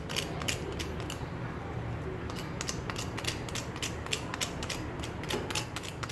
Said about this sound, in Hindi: आपको मैं इनकी आवाज़ भी सुनाना चाहूँगी कि ये कितने क्रिस्पी बने हैं